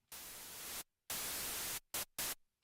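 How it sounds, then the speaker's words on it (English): Bursts of harsh broadband noise from an Elektron Analog 4 MK2 synthesizer's noise source: a long hiss, a second long hiss, then two short stabs, each cutting off abruptly into near silence. "we can take the level of oscillator 1 off and bring in just noise."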